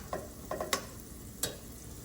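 Poha being stirred in a frying pan after tempering, with a few scattered scraping strokes of a spoon against the pan over a soft background sizzle, no talking.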